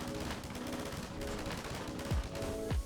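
Combine mech turret machine gun firing in Garry's Mod, a dense run of rapid, close gunfire that holds steady over a constant mechanical drone, with two sharp, falling whooshing sweeps near the end.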